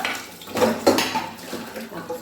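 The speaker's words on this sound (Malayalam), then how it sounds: "ചായ കുടിച്ച പാത്രങ്ങളും കൂടെ കഴുകി വെക്കുവാണ്" Tea cups and other dishes being washed in a kitchen, with clinking and knocking of crockery over running water, a couple of louder clatters in the middle.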